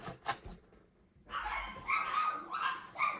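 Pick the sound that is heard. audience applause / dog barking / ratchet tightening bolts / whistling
dog barking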